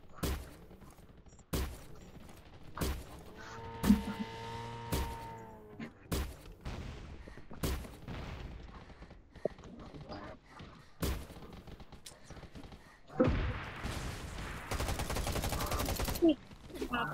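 Gunfire in the video game Garena Undawn: repeated sharp shots and short bursts crack through the clip, some close and loud, with a dense rattling stretch near the end while players talk over the action.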